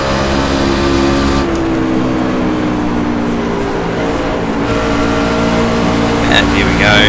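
Toyota race car engine in a racing video game droning steadily and loudly throughout, a constant whining tone with slight pitch shifts, with no speech.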